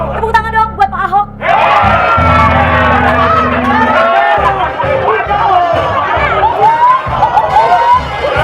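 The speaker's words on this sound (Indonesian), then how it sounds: "Tepuk tangan dong buat Pak Ahok." A loud, sustained crowd cheers, whoops and shouts for Governor Ahok as he arrives as a guest, with a dense wash of excited voices and a steady low hum underneath throughout.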